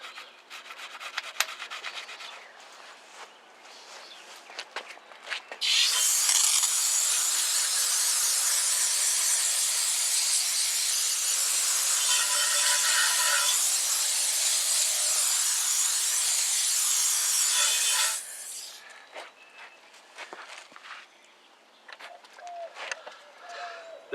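Stiff scrubbing on the wheel of a 1978 Lincoln Continental Mark V, working crud out from between the fins: a loud, steady, harsh rubbing rasp that runs continuously for about twelve seconds, with quieter scattered scraping and handling noises before and after.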